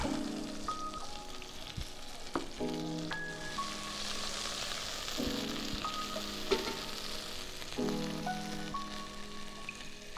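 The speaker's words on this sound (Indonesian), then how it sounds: "Di blender kemudian kita tumis sebentar, kemudian kita bisa pakai secukupnya." Blended spice paste of shallot, garlic, turmeric and candlenut sautéing in a pan, giving a steady close sizzle with occasional stirring scrapes and no talk.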